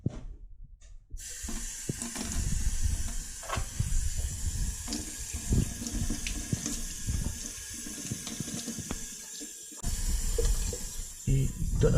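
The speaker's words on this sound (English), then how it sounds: "give it a rinse under the tap" Tap water runs steadily over a keg ball valve being rinsed, a continuous splashing flow with occasional clinks of the metal part under the stream.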